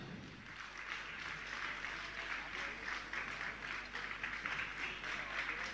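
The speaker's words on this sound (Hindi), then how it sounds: "एक बार जोरदार तालियां।" An audience at a religious gathering claps together in a sustained wave of applause, heard faintly and evenly from a distance for several seconds.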